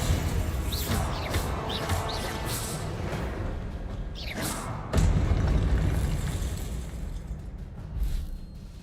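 Bombarda blasting spell going off in the Hogwarts Legacy video game, a loud low boom with a whooshing burst near five seconds, amid a steady rumble of other combat thuds and swishes.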